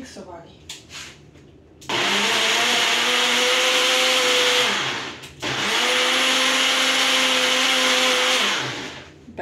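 A kitchen blender runs in two long loud bursts while blending pistachio milk for homemade ice cream, with a short pause between them and a steady high whine.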